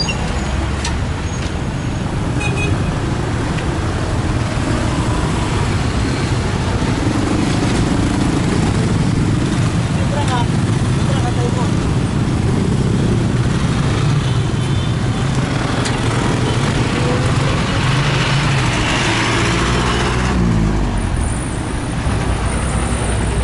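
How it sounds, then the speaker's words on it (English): Many motorbikes and other vehicles crowd a busy Manila street, their engines idling and revving in a loud, dense, continuous roar of traffic close by, with surges of revving rising and falling throughout. "There were too many motorbikes at the same time."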